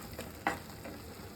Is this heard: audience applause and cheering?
no